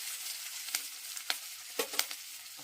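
Onions frying in a pan, a steady bright sizzle with a few sharper crackles and stirring clatters spread across a short stretch, close and alone.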